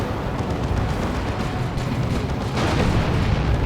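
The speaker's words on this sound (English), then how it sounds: "Down goes the Battle Wagon though" An Ork Battle Wagon being destroyed in the Warhammer 40,000 Dawn of War 2 strategy game, heard as a loud, continuous rumbling explosion amid dense battle noise, swelling slightly toward the end.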